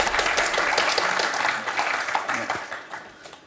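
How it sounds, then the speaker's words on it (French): A television quiz studio audience applauds loudly and continuously, the clapping thinning gradually toward the end while a voice talks over it. "Et je l'entends applaudir."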